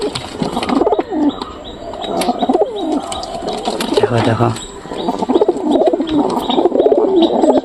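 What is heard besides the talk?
pigeons cooing in a loft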